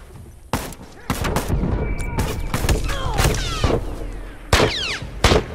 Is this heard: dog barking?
no